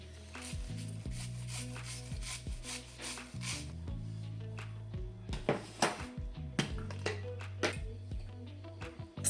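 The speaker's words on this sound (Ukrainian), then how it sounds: "Також натираю одну середню морквину, одну середню цибулину." A medium carrot and a medium onion are rubbed against a kitchen grater for potato-and-cabbage pancakes, producing repeated rhythmic rasping strokes, close and fairly loud, with a few knocks and scrapes in between.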